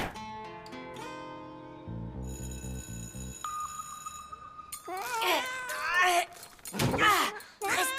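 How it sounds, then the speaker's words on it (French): In a French cartoon, a cat shut inside a school locker yowls in several drawn-out, wavering meows near the end, following earlier tonal electronic beeps and music-like notes. "Angelo, je crois que tu as mis ton chat dans ton casier"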